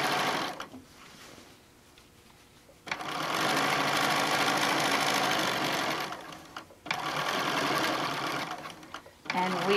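A sewing machine top stitches a tote bag made from a fabric panel, running in two long, loud bursts of rapid whirring separated by quieter pauses, with faint handling noise in between.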